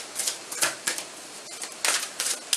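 Tarot cards being shuffled by hand, close and crisp, in several quick riffling bursts with short pauses between them.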